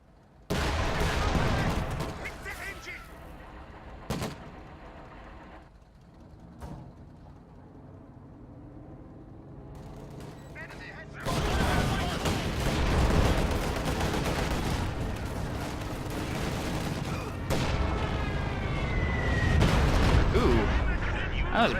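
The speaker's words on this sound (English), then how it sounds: "That was a pretty good dive bomb." In a World War II strategy video game, a dive bomber strikes near a Sherman tank: sharp gunfire bursts and booming impacts crack over rumbling battle noise, with a louder sustained barrage of explosions and shooting in the second half.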